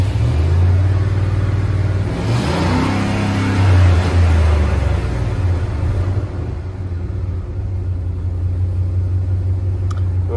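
A 1999 Dodge 2nd Gen truck engine idling roughly, a steady low rumble that swells and dips as it surges, then settles to a quieter idle near the end.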